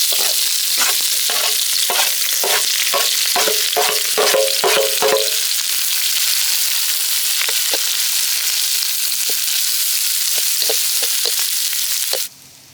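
Onions and green chilies fry in oil for village-style egg thokku, hissing loudly and steadily up close while rhythmic stirring strokes come first and then thin out.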